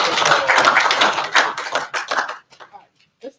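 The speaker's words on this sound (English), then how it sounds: "So give them a clap." A burst of hand clapping from a small group at a youth under-15 cricket competition in Jamaica, fading after a couple of seconds into a few scattered claps.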